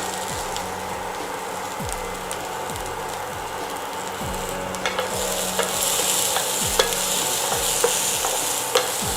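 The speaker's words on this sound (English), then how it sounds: "Keep sauteing it for around 10 minutes till the sprouts and the corn are well cooked" Sprouts and corn being sautéed in a pan for an Indian evening snack, giving a steady close sizzle with repeated scrapes and stirring clicks of a spoon against the pan, growing slightly brighter partway through.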